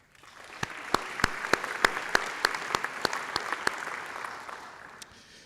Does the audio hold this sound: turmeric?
no